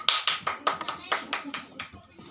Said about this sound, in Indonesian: kita tepuk tangannya dulu ya.